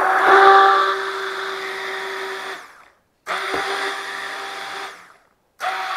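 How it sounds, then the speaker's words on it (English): A handheld immersion blender whirs loudly while mixing a chocolate protein ice cream base. It runs in three bursts, the first about two and a half seconds long, each whining steadily and then cutting out abruptly. "I got this Immersion Blender here"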